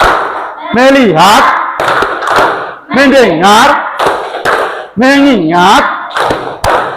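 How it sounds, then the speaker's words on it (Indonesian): A classroom doing the 'tepuk fokus' focus clapping routine, with loud, crisp claps in repeated rhythmic groups while the class chants in unison between them. "Saya mohon kita tepuk fokus dulu"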